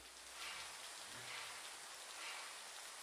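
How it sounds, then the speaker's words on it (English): Steady rain falls in the Trainz railway simulator on a Victorian Railways steam run to Healesville, a faint, even hiss of drops on surfaces that continues without a break and with no voices. "And it's raining."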